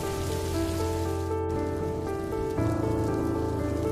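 Steady cartoon rain hisses without pause, falling continuously under sustained musical tones.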